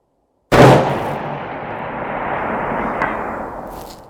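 A long range rifle shot fired outdoors at a steel target 600 yards away: a sudden loud crack after brief silence, followed by a long rolling echo that slowly fades, with a faint distant ring near the end.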